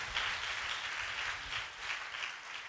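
An audience claps at a religious gathering, a steady mid-distance patter of many hands that swells in waves and carries on throughout without speech.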